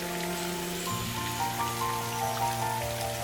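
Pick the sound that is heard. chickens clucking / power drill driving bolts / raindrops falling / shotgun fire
raindrops falling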